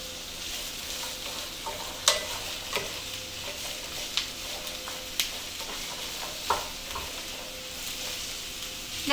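Carrots, celery and onions sizzle steadily in a pot as a spoon stirs them, with sharp scraping clicks at irregular intervals over the continuous frying hiss.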